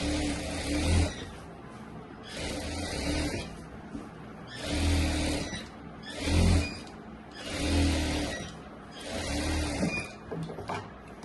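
A sewing machine stitches the neckline of a Rajputi kurti in repeated bursts of about a second each, its motor whirring up and pausing in a regular rhythm, close and fairly quiet.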